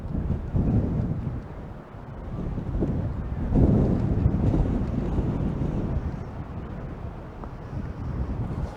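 Wind buffets the microphone at an outdoor football ground during a local match, a steady low roaring rumble that swells in gusts around the middle and holds for the whole stretch.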